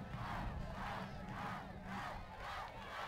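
A stadium crowd at a high school football game between La Joya Palmview and PSJA Memorial chants in a loud, rhythmic, repeating cadence, roughly one swell per second, rising for a touchdown, dense and sustained with no single voice standing out.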